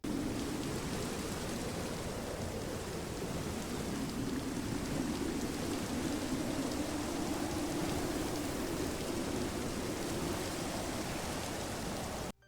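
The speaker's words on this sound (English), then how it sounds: "it was late and it was raining" Steady video-game rain falls late at night, a continuous even hiss of drops on surfaces with no voices, holding at moderate level before cutting off abruptly at the end.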